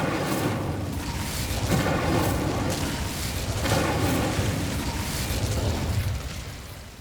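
Fire spell cast in the video game Hogwarts Legacy, heard as a dense, roaring burst of flame and crackling booms that fills the whole stretch with constant loud noise.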